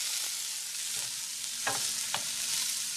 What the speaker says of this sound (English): we've just got the chopped up broccoli and the shallots just cooking over a medium-high heat